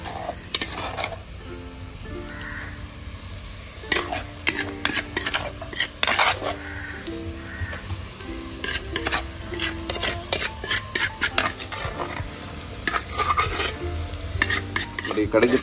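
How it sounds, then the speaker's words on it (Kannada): Chopped masala is stirred and fried in ghee for a chicken dish: a spoon scrapes and clinks against the pan in irregular bursts over a continuous low sizzle, with no voices. "ಈ ಕಡಿದಿಟ್ಟಂತ ಮಸಾಲವನ್ನು ಈ ತುಪ್ಪದಲ್ಲಿ ಇವಾಗ ಚೆನ್ನಾಗಿ ಮಿಕ್ಸ್ ಮಾಡಿ ಒಂದು ಎರಡರಿಂದ ಮೂರು ನಿಮಿಷ ಚೆನ್ನಾಗಿ ಫ್ರೈ ಮಾಡುವಂಥದ್ದು"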